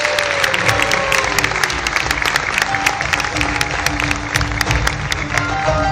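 A crowd at a ceremony in Tabriz honouring sports veterans applauds loudly and continuously, a dense close clapping that holds steady throughout.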